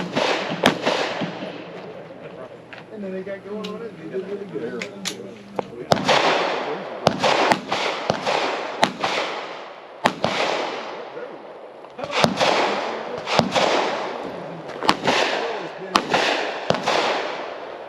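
Handgun shots ring out at targets on a shooting stage: sharp, loud cracks come singly and in quick pairs and bursts, with gaps between volleys. Voices talk faintly in the background.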